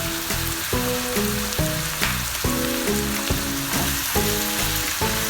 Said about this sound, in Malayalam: ഒരു 2 ടേബിൾ സ്പൂൺ പിരിയൻ മുളക് പൊടി ഇട്ട് കൊടുക്കാം.